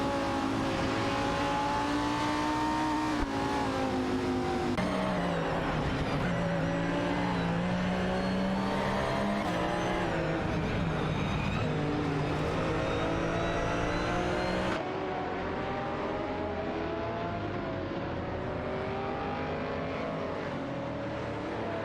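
GT3 race cars, including a Marcos and an Aston Martin DBS9, battle on track in a racing video game, their engines droning and revving loudly and continuously, pitch rising and falling through gear changes.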